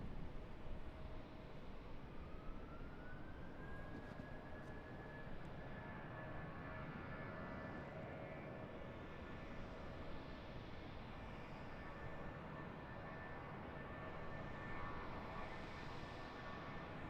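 A Boeing 777 airliner rolls past on the ground at Charlotte airport, its steady jet engine roar filling the scene, with a rising whine that settles into a sustained tone as it draws close.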